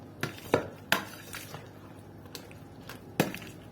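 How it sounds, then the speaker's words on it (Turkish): Eggplant pieces get tossed and mixed in a baking dish, a handful of sharp clinks and knocks of a utensil against the dish spaced irregularly, close and fairly quiet, with no talk. "Bunu böyle her tarafına gelecek şekilde karıştıralım"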